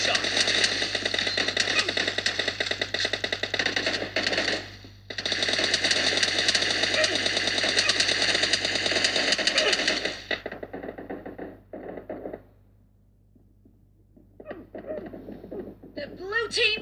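Rapid gunfire from PUBG Mobile Lite on a phone, loud dense bursts with a brief gap, then quieter scattered shots toward the end, with game announcer voice lines over part of it.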